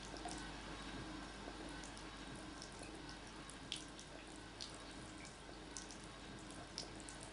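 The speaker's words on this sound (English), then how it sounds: "the pipes are wrong, the water is flowing all the time" Water runs nonstop from faulty pipes in a cracked, crumbling apartment building, a faint, steady trickling hiss with scattered small drips and splashes, no voices.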